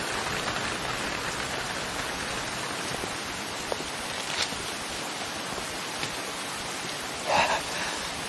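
Steady rain falls outside a shop at closing time, a dense, even hiss with a few louder drips near the end and no voices.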